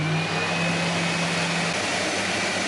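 A Mirka DEOS detail sander runs with a steady broadband whir and a thin high whine, its pitch holding level, close and continuous with no speech.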